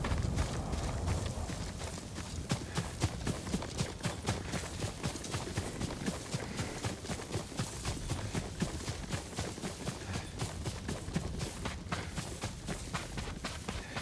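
Horse hooves clip-clop in a steady, continuous rhythm in Ghost of Tsushima, a video game, close and fairly quiet, with no other sounds on top.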